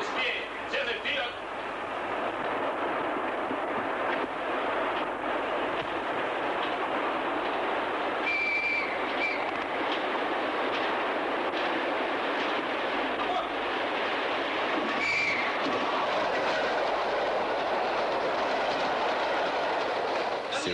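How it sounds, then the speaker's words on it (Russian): An electric commuter train roars past close by in a steady, loud rush with rattling wheels, while people shout in Russian over the noise, ordering dogs cleared from the track. "Электричка близко!"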